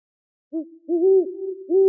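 An owl hooting close and clear in silence: a short first hoot followed by two longer, steady hoots in quick succession.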